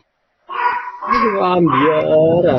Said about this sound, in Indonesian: Waduh, guguk siapa tuh?